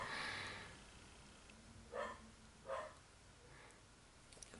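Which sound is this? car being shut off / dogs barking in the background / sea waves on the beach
dogs barking in the background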